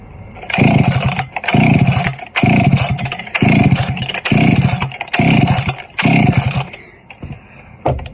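A Stihl 031AV chainsaw with a freshly cleaned carburetor and the choke off is pull-started about seven times in a row, each loud, close rasping pull sputtering briefly without catching, then quiet.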